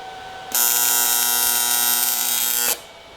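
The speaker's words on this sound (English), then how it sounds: "So I'm going to take a hole saw and go like that and extract a mundo" Hole saw cutting into a flange on BMW e34 intercooler piping, giving a loud, steady high-pitched whine with a strong metallic ring that runs for about two seconds and then stops.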